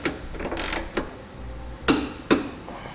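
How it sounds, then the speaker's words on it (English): Trailer hitch bolts are tightened on a 2015 Volvo XC70 during a Draw-Tite Max-Frame hitch install, with a few sharp metallic ratchet clicks and knocks over a faint background hum. "we'll tighten down the bolts. And then torque them down as specified in the instructions."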